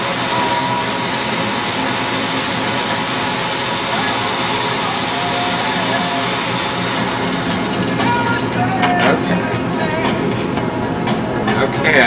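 A Fasco fan motor runs steadily after oiling of a rear bushing that had been locked up, giving a continuous close hum and whir with faint rattling ticks later on.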